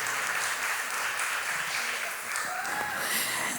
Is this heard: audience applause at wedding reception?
yes